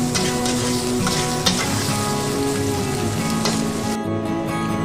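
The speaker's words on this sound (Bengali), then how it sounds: "এবার এখানে আমি পেঁয়াজ, রসুন আর কাঁচা লঙ্কা ভালো করে ভেজে নেব।" Onion, garlic and green chili fry in hot oil for a dry-fish bharta, a loud, steady sizzle with a few faint stirring scrapes and no talk.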